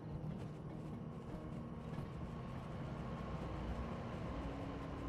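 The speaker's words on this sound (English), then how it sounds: "it looks like we're pulling the boxcars" A train pulls a line of boxcars in Derail Valley, a low continuous rumble and rolling rattle heard steadily throughout at moderate, even loudness.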